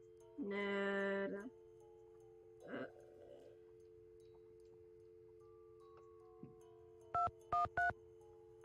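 Telephone dialing in a Nancy Drew video game, a quiet hum broken by a buzzy electronic tone and a short blip, then three quick clear dial tones near the end, faint overall with no voices.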